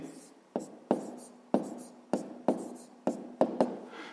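A pen writes down an answer to a fifth-grade math problem, giving a quiet scratch with seven or eight sharp taps where the pen strikes the paper, close up and with no talk.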